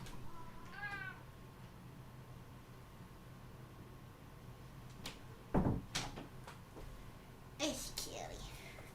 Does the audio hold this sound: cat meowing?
yes